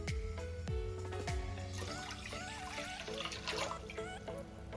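Water pours into a pot for making wheat-flour halwa (sheera), first in a few splashing gulps, then as a steady close trickle and burble that continues throughout.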